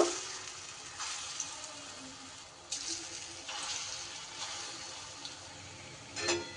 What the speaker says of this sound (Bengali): তেল গরম হলে আমি আগে বড়াগুলো ভেজে নেব